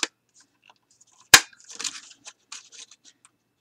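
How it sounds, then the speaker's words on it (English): Scissors cutting petal shapes out of brown cardstock, one sharp loud snip followed by a few softer crisp cuts and rustles, close and otherwise quiet. "So I'm just going to go ahead and cut out my petals here."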